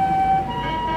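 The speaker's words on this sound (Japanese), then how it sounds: "救急車が発信しますので" An ambulance siren sounds in a street near Shinjuku Station's south exit, a steady, fairly loud two-tone wail that shifts pitch partway through and stays in the foreground.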